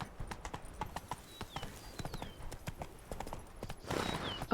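The horse Roach trots in The Witcher 3, its hooves clip-clopping in a quick, steady rhythm close by, with a faint whinny near the end.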